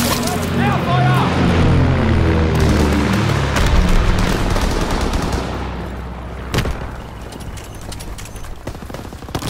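Gunfire and booms in a WWII shooter video game during a paratroopers scorestreak, with dense firing and rumbling blasts under a continuous voice, and a sharp crack partway through.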